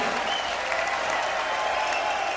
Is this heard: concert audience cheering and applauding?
yes